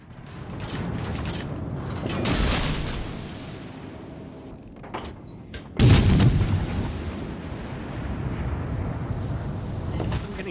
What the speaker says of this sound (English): now I've got time to get out another set of torpedoes